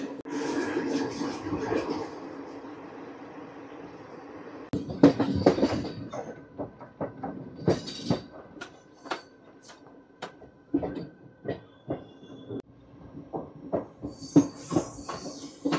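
The Tirupati-Puri Express runs on the tracks between Ichchapuram and Berhampur, a steady rumble broken by irregular sharp clacks and knocks from the wheels and carriage, heard from inside the train.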